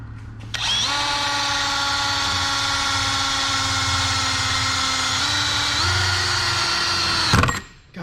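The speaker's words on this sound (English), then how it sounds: "So I'm going to go ahead now and drill this out." A power drill bores a mounting hole for a Jackspania H2K billet shifter box, its motor whining loudly and steadily for about seven seconds, the pitch stepping up slightly under load before it cuts off abruptly.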